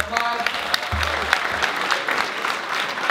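An audience applauds at a fitness event, a dense, steady clatter of many hands clapping together while a voice speaks over the crowd.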